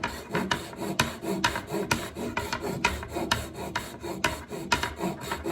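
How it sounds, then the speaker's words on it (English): A thin, flexible-bladed hand saw cuts through wood while a broken table leg is being repaired, with steady back-and-forth rasping strokes about twice per second, close and continuous. "The nice thing about these saws, the blade's real thin, so it's real flexible"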